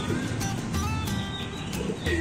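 Pigeons coo in low, soft bursts close by, with a few other bird chirps mixed in and no talking.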